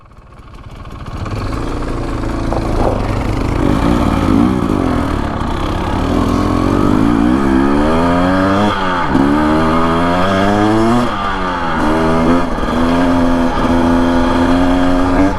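Husqvarna TE250 dirt bike ridden on a canyon trail, its engine droning loud and close with repeated rising and falling revs as the throttle opens and closes.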